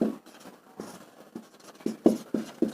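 Chalk or marker strokes on a board write out a maths heading, short scratchy taps that come irregularly and get busier toward the end, close and quiet with no talk.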